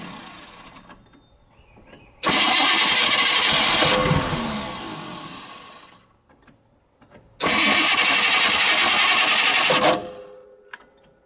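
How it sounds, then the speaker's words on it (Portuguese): A Ford Maverick V8 cranks and fires twice, each start bursting into a loud, rough idle lasting a few seconds before cutting off, with quieter mechanical rattles and pauses between attempts. "Então eu vou pedir para a Kátia ligar o motor."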